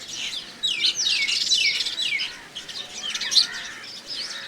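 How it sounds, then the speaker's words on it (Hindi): Birds chirp and tweet in the morning: a steady chorus of bright, repeated calls with quick sweeping notes, fairly close and continuous, with no talk. "सुबह सुबह परिंदों की चहक महक, खूबसूरत सी आवाज़ें"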